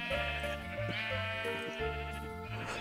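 Sheep in Minecraft bleat repeatedly, several overlapping wavering baas close by and loud, following one another without pause.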